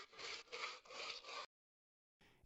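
Steps are scrubbed in a castle as a brush rasps back and forth in four rhythmic strokes. The sound is close and then cuts to silence before a faint scrape returns.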